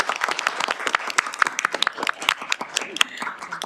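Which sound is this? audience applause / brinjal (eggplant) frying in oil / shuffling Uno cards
audience applause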